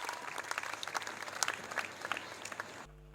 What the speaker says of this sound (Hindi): आइए आप सब तालियों से जोरदार एक बार तालियों फिर से स्वागत हो जाए